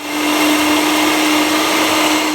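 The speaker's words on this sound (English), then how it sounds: "I will blend it into a high-speed blender." A high-speed blender whirs loudly and steadily while blending plant-based milk with a cinnamon stick, a constant motor whine with no pauses or voices.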